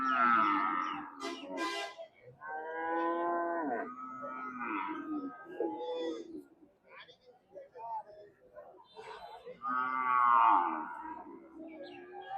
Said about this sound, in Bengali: সেই সুন্দর সুন্দর শাহিওয়াল জাতের বাছুর